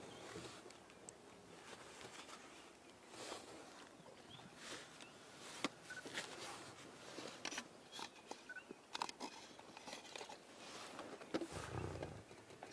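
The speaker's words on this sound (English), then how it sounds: "listen to his friend is growling at him now" Male lions in the Sabi Sand safari area growling at each other, low rumbling growls with scattered crackles and rustles, moderately distant and fairly faint, without speech.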